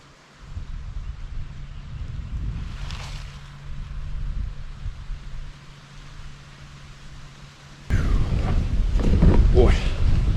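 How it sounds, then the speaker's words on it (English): Strong wind blowing across an exposed lakeside spot in a fall Ohio state park, a steady broadband rush that gusts louder near the end, with brief speech and other human sounds mixed in. "Boy, that wind is whipping through here."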